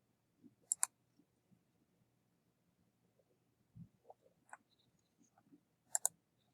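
A computer mouse clicks a few times at close range, with short crisp clicks spread out across a quiet background and one pair of quick double clicks near the end.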